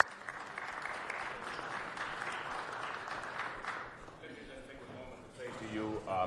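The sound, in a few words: applause welcoming a council member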